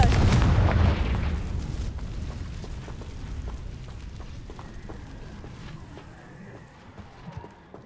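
A Confringo explosive spell goes off in the Hogwarts video game, a loud booming blast at the start that decays into rumbling debris, with scattered sharp cracks and impacts trailing on.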